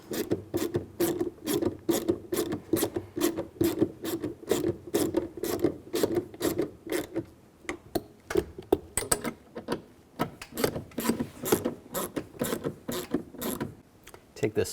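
Screws being driven in on the front driver's side window motor of a 2004-08 Nissan Maxima, a steady run of rapid ratcheting clicks and rasping mechanical turns, close and continuous throughout.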